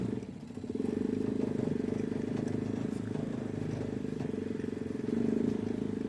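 Dozer 250 tricycle engine running while driving, a steady close motorcycle-like drone with a throbbing pulse and slight rises in revs, with some clatter.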